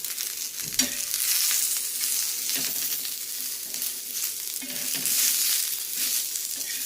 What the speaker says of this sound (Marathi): कांदाही हलका तांबूस होईपर्यंत आपण त्याला परतून घेऊया